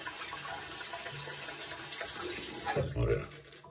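A tap runs in a soft, steady stream beside a shaving setup with Omega EVO brush and Extro soap, then swells into a louder gush near the end; someone speaks Greek quietly underneath.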